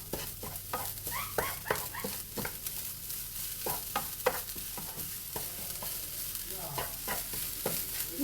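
Grated coconut roasting with sugar and cardamom powder in a pan, a spoon scraping and stirring in repeated bursts over a steady low sizzle, close and moderately quiet, no voices.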